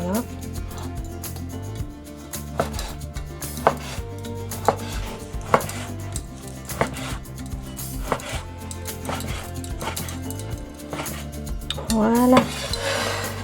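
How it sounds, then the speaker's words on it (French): A knife slices raw beef very thinly across the grain on a cutting board, giving a quick run of sharp, evenly spaced taps close by, with a brief clatter near the end. "Je vais juste couper vraiment très finement."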